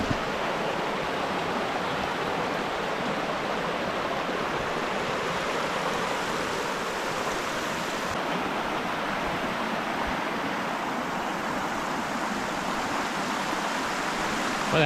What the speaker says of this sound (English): That's a nice little Babbly Brook streamy thing here.